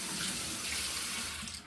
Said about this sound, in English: Let me wash off